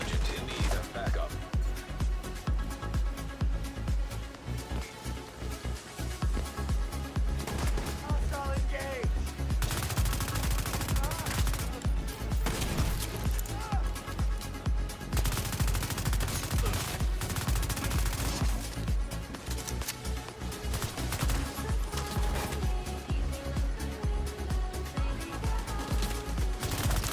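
Dense video game gunfire from The Division 2, rapid bursts and volleys running almost nonstop and loud for the whole stretch, layered with game effects and occasional voices.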